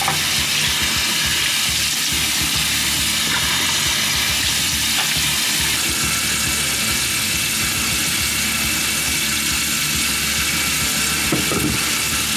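Running tap water splashes steadily as a face is washed at a sink, a continuous close hiss and spatter filling the whole stretch with no talk.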